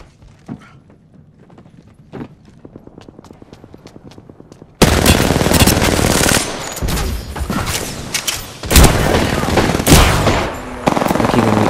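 Shotgun gunfire erupts in an Apex Legends match: rapid clicking and light footsteps first, then a sudden loud barrage of blasts and heavy shots that keeps going with brief breaks.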